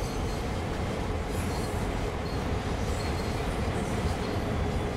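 A train in the video game Train Sim World rolls steadily past at close range, a continuous rumbling roar with rail clatter and a faint high wheel squeal.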